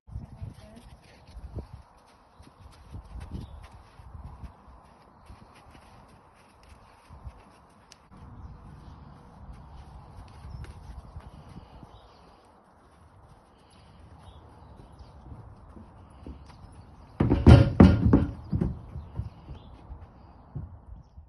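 A horse's hooves thud and clop irregularly on a hard surface while it is being loaded into a horsebox, with birds chirping faintly and a louder burst of hoof strikes near the end.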